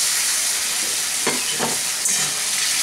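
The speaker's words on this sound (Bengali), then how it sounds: "আলুগুলোকে একটু কষিয়ে নিচ্ছি মশলা।" Fried potatoes being stirred into a thick spice masala in oil for an egg omelet curry, a steady close sizzle with a few soft scraping stirs, no talking.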